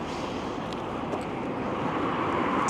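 Steady wind rushing past with a broad, even roar and no voices, holding at a constant level throughout, on a chilly, damp city street in Belgrade, Montana.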